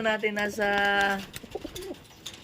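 Pigeons cooing close by, a sustained throaty coo followed by softer broken calls, with some human voice mixed in.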